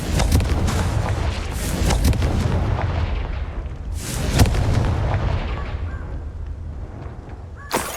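Booming fire-spell explosions in the wizarding video game Hogwarts Legacy, a series of heavy blasts and rumbling crackles, with two sharp bursts standing out.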